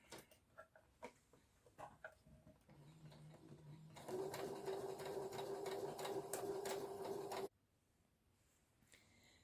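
A sewing machine stitches pin tucks in a steady whirring run of about three and a half seconds, preceded by soft ticks and clicks from setting up, then stops abruptly into quiet.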